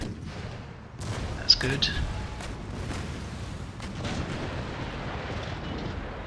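Artillery volleys from the Empire: Total War video game, heard as a few distant booms over a steady battle rumble while someone speaks briefly.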